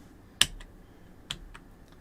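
A few isolated computer keyboard key clicks, sharp and close, spaced roughly a second apart in an otherwise quiet room.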